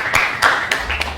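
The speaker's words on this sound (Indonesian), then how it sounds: "tepuk tangan untuk kelompok 3" Four sharp claps with hands struck together come one after another at steady intervals in a classroom, close and moderately loud, for group 3 as it comes forward to present its conclusions.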